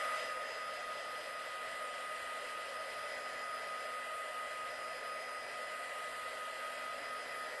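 A hair dryer runs steadily with a constant whining hum to dry a decoupaged spaghetti sauce jar, heard close and alone for the full stretch.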